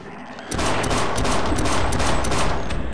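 Rapid gunfire in Half-Life Sven Co-op, a loud sustained burst of automatic shots that starts abruptly after a quieter moment and rattles on continuously at close range without talk.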